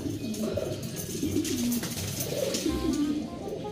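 Racing pigeons in a breeding loft inside a warehouse coo continuously, with low rolling calls from several birds overlapping close by.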